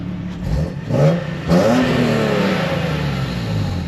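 A tuned Nissan 370Z with an HKS dual exhaust revs up, engine climbing through a couple of quick throttle blips and then holding a steady, moderately loud drone from nearby.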